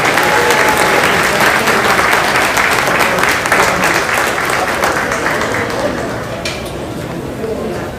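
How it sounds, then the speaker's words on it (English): A crowd at a commercial pig show claps loudly and steadily for the young exhibitors, with dense applause that fades slightly toward the end. "Let's give these young people a good round of applause."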